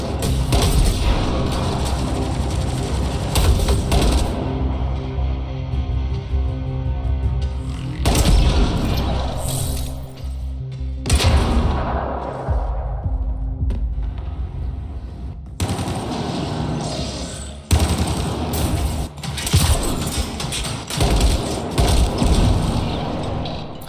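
Gunfire rattles through Mass Effect: Andromeda combat, loud sustained automatic bursts mixed with booms and mechanical clatter, broken by short pauses, with some talk mixed in.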